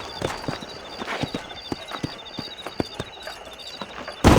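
Horses' hooves clip-clop in the Western video game Red Dead Redemption: a steady, fairly close walking rhythm of hoof strikes over a soft ambient bed, ending in a sudden loud burst.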